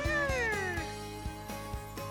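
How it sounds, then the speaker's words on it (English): A cartoon cat meows as a game sound effect in the visual novel Summer Pockets Reflection Blue, one drawn-out falling mew over soft background music with a light steady beat. "Oh, a cat."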